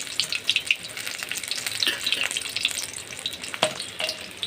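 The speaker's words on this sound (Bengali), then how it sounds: "এখন এভাবে আমি উল্টে পাল্টে ভালো করে লাল লাল করে ভেজে নেব" Banana flower fritters (mocha bora) frying in hot oil, giving a steady crackling sizzle with scattered pops and occasional stirring clinks, close and moderately loud, with no talk.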